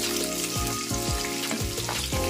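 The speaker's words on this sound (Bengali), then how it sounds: "এবারে আমি পেঁয়াজটা এর মধ্যে দিয়ে নিচ্ছি, দিয়ে আমি হালকা করে" Onions frying gently over low heat in a pan for a fish dish, a steady close sizzle broken by a series of regular scraping stirs, with no talking.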